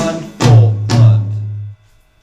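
A short drum fill spanning two beats in a Rockschool Grade 2 piece: two strong hits about half a second apart with a low booming ring that sustains, then cuts off into silence.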